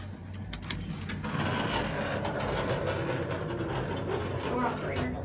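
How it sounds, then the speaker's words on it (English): A Schindler MT elevator door operator at a Banana Republic store on Third Street Promenade in Santa Monica runs with a fault, giving a continuous rattling, clattering mechanical whir that stays fairly faint and steady throughout. "Door operator doesn't sound good."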